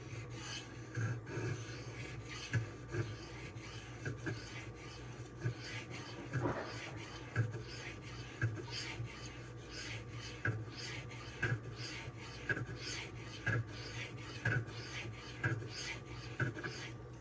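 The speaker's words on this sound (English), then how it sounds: "you can hear the knife hitting against the side of the stone" Rhythmic rasping strokes of a Cold Steel Swift knife drawn across a diamond sharpening stone, steady back-and-forth scraping with faint clicks as the blade hits the stone's side, quiet and close.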